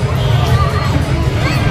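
A large crowd packed inside a festival pandal, a steady dense hubbub of many voices murmuring and chattering close by without pause.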